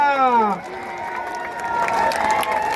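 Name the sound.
crowd applause at wrestling match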